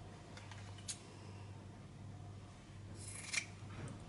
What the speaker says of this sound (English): And I'm just going to cut right into where that fold was.